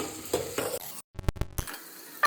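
Peppercorns, cumin, cashews and onion fry in ghee for pongal, bursts of close sizzling broken by a brief silence, then sharp metal spoon clicks against the pan before the frying resumes.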